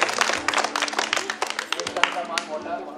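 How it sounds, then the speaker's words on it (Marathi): A group of people at a gathering claps loudly together, rapid overlapping claps close by with voices talking underneath. "जरा टाळ्या वाजवा एकदा सर्वांनी जोरात"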